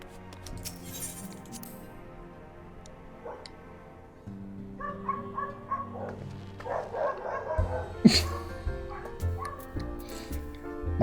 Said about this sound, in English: My dog has found friends.